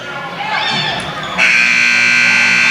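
End-of-quarter buzzer at a boys' high school basketball game, a loud sustained electronic tone blaring over crowd noise and commentary in a gym.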